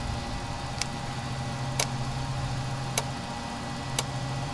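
A Jetstream 41 turboprop engine hums steadily at idle in a flight simulator cockpit, a low constant drone with four sharp ticks spaced about a second apart cutting through it.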